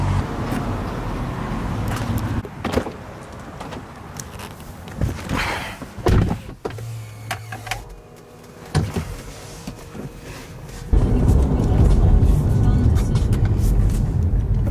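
A car door shuts with a few thunks, and then the steady rumble of the car being driven rises, all heard up close from inside the car.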